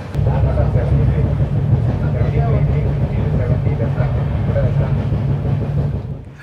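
The Kanniyakumari–Chennai Egmore Superfast Express train running near Valliyur, a loud continuous low rumble with steady rolling rail noise throughout, close and unbroken.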